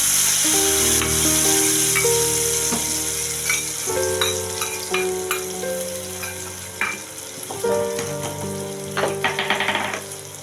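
Spice paste going into cabbage frying in a pan, a loud close sizzle with clinking stirs and a low hum underneath, the hiss flaring and then settling into crackling spatters.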